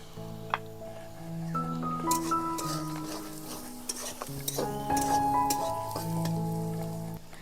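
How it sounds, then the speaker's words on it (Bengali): Chopped onions frying in a pan with salt and turmeric powder for a kadai chicken, a soft sizzle with a spoon stirring and clinking against the metal, steady and close. "পেঁয়াজটা ভালোভাবে ভাজার জন্য দিয়ে দেবো পরিমাণ মতো লবণ আর দিয়ে দেবো হলুদ গুঁড়ো"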